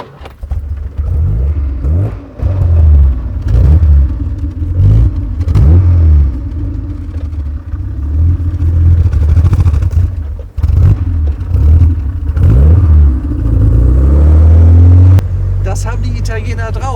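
A 1970 Maserati Mistral Spyder 4000 pulls away, its engine revving and rising in pitch under steady nearby engine noise, with a door or mechanical clunk near the end; someone talks over much of it.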